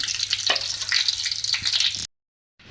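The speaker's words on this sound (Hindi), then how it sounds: "बाकी को भी हम इस तरीके से कटलेट्स को फ्राई कर लेंगे।" Chicken, vegetable and cheese cutlets fry in hot oil with a steady, close crackling sizzle, broken by a few sharper pops and stirring scrapes, before the sound cuts out near the end.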